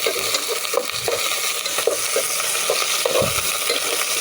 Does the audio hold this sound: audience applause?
no